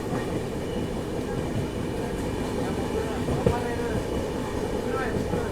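A 12077 Jan Shatabdi SuperFast Express runs through the Guntur division near Mangalagiri, its steady low rumble filling the whole stretch with a faint clack partway through and no speech.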